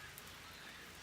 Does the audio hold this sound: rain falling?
yes